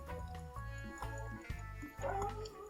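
In the survival game Stranded Deep, a dog barks and yips in quick repeated bursts, fairly faint, against a steady background hum.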